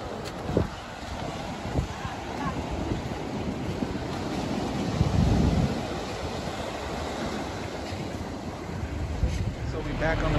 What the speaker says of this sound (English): Go listen to the waves and enjoy it.